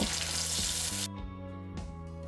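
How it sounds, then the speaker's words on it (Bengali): Dried chillies, fennel and nigella seeds hit hot mustard oil in a wok, giving a bright, hissing sizzle that drops off sharply after about a second, then flares briefly again. "কড়াইতে সর্ষের তেল দিয়ে তেল গরম হয়ে এলে ফোড়নে শুকনো লঙ্কা, মৌরি আর কালো জিরা দিয়ে দেব।"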